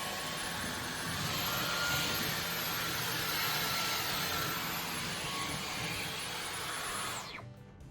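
A Dyson V15 Detect cordless stick vacuum runs with a steady high whine and airy rush, close and continuous, then powers down at the end.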